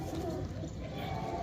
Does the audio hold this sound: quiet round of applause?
no